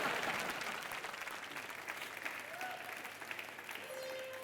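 Studio audience applause on a comedy stage show, a steady wash of clapping that stays fairly even from start to finish, with faint tones and background sounds mixed in.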